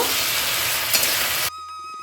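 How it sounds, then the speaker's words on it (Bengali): Loud, steady sizzling of salted vegetables for shukto frying in hot oil, with a scraping stir, cutting off abruptly into near silence with a faint hum. "এবার এটাকে নাড়িয়ে চাড়িয়ে ভেজে আমি তুলে নেব"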